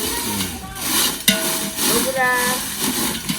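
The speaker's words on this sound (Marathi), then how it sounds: "ही ही मिरची भाजत आहेत ही बेडगी मिरची आहे" Byadgi chillies roasting in a pan at home while a spice masala is prepared, giving a steady dry sizzle with stirring scrapes and one sharp clatter, heard close up with faint voices and a tonal background sound.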